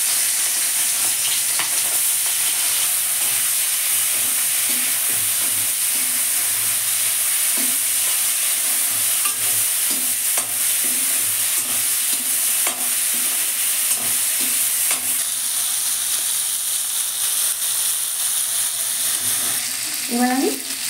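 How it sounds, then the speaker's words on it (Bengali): Prawns frying in mustard oil in a pan: a constant bright sizzle, with repeated stirring scrapes through it and a short clatter near the end, close up and steady. "এবার আমি সরষের তেল দিচ্ছি, এবার আমি চিংড়ি মাছ দেবো"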